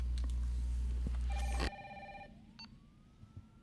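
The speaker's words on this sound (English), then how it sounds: "Oh, the phone's ringing." A telephone rings once in the video game Resident Evil 3 Remake, a brief tonal burst over a loud low hum that cuts off abruptly, followed by quieter background.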